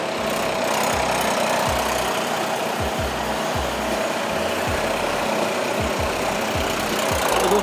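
A new Mahindra tractor engine runs steadily on a factory test line, a loud continuous drone with repeated low thumps and knocks from the plant throughout, no talk.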